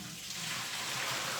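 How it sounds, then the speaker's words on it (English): Water poured out of a container after quick-thawing chicken in the kitchen makes a steady, close splashing rush across the whole moment. "Let me pour this water out."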